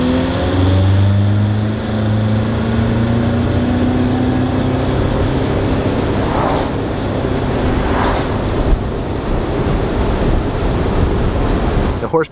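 A VW Vanagon converted to a turbocharged TDI diesel engine drives down the road, its steady engine drone and road noise continuous and fairly loud throughout, with slight shifts in pitch as it moves.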